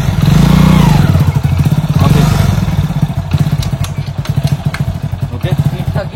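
A motorcycle engine thumps loudly and close while riding in gear, with a heavy low rumble that eases into a fast, steady beat of firing pulses, and someone talks over it.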